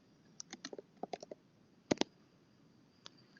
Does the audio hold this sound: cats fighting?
no